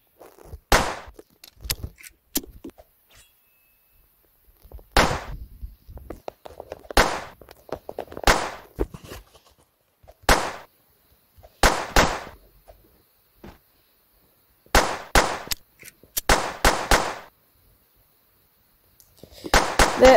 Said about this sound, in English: I'm gonna keep shooting.